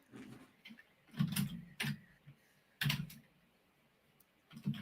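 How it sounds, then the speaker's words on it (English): Keys click on a computer keyboard in short irregular bursts of typing, fairly close and clear, with quiet pauses between bursts and no talking. "Is my typing really loud?"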